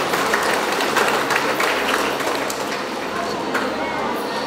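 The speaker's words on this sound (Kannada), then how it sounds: "ಸ್ಕೂಲಲ್ಲಿರೋ ಪ್ರತಿ ಮಕ್ಳಿಗೂ ಕೂಡ ಒಂದು ಸರಿ ಜೋರಾಗಿ ಚಪ್ಪಾಳೆ ಬರಬೇಕು" An audience applauds children at a pre-school annual day celebration, a broad sustained round of clapping that stays steady, with some voices mixed into the crowd.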